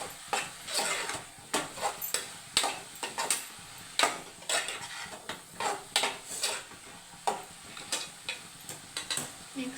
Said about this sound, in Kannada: ಟೊಮೊಟೊ ಹಣ್ಣು ಹಾಕಿ ಮಿಕ್ಸ್ ಮಾಡ್ಕೊಳ್ಳಿ